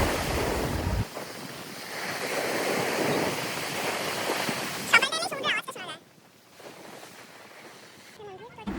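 Strong sea waves at Digha beach surge and roll in a continuous roar, buffeted by wind noise on the microphone, before the surf drops back and grows fainter.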